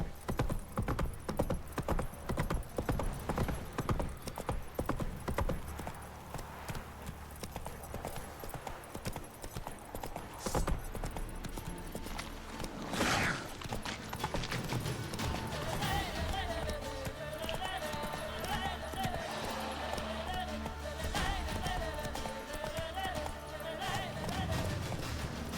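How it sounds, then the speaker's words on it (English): Roach, a horse in The Witcher 3: Wild Hunt, gallops with a steady clip-clop of hooves. A brief whinny-like squeal cuts in midway, and game speech and music sit underneath. "Run, Roach"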